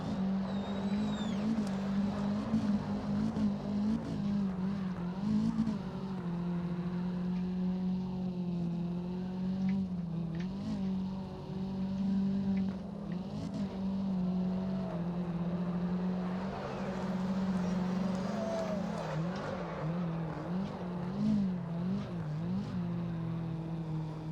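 Toyota AE86 Hachi-Roku drifting in CarX Drift Racing Online, a loud sustained engine drone in high gear that wavers with throttle and revs up and down throughout, with occasional tire squeal.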